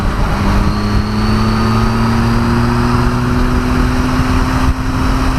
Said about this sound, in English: This big old 1200cc engine has loads of torque, and you wind it on and she just goes.